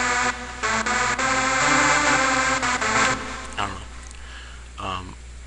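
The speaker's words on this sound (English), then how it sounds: "Hypersaw sounds like this." A Hypersaw synth preset in FL Studio's Sytrus plays a thick, buzzing detuned-saw chord, sustained and bright, cutting off at intervals and then fading into softer echoing stabs.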